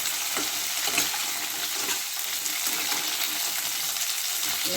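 Cauliflower stalks frying in a pan for a Bengali mixed-vegetable curry, with a steady close sizzle and soft crackle that holds even throughout, without any voices.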